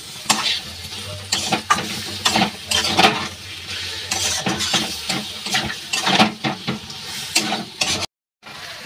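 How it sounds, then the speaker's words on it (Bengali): Mutton pieces sauté in a pan for a kosha-style curry, with steady sizzling and frequent spoon-scraping stirs against the metal, close and busy throughout, cutting off briefly near the end. "এইগুলো আমি এখন কষে নেব ভালো করে কষে নিয়ে আমি প্রেসারে দেবো।"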